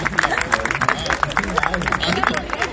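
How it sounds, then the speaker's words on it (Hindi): Audience clapping at a Hindi poetry gathering (kavi sammelan), a dense, steady wash of many hands under a loud hall ambience, continuous through the moment without a spoken voice. "तालियां अच्छे से बजा दो।"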